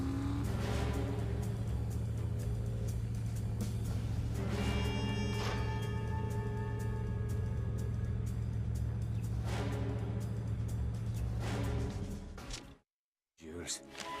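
A car in the video game The Saboteur drives with a steady engine drone under game music and dialogue, ending in a brief cut to silence.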